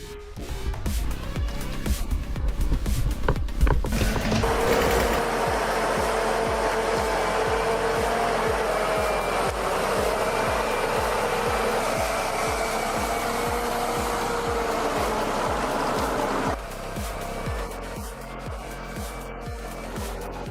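An eight-wheel-drive forestry machine labours on soft terrain during logging work, its engine a loud, steady, close drone that holds for many seconds before easing off near the end.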